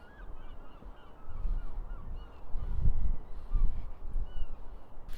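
Geese honk near an old bridge, a loose chorus of calls rising and falling over a rumbling outdoor background, swelling toward the middle and staying fairly close.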